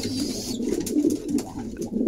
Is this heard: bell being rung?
no